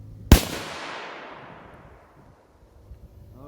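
A single sharp, loud rifle shot from a .300 Winchester Magnum firing a 110-grain Barnes bullet at body armor outdoors, followed by a long fading rumble and a couple of faint knocks.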